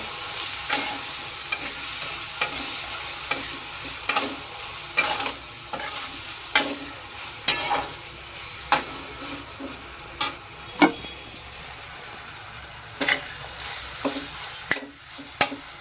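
A spoon stirs jackfruit curry with lemon juice and sugar in a pot, giving repeated scraping taps at an uneven rhythm over a soft sizzle, with no voices.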